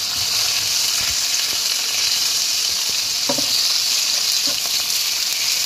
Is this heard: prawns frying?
yes